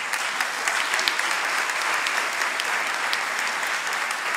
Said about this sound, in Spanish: al cual les pido un fuerte aplauso para él